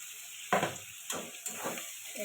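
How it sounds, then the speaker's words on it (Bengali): Pre-fried potatoes stirred into cooked spice paste in a pan, three or four close scraping, shuffling stirs over a low sizzle, no talking. "মশলাটা কষানো হয়ে গেছে এবার আলু দিয়ে দেবো ভেজে রেখেছিলাম আলুটা দিয়ে দেবো"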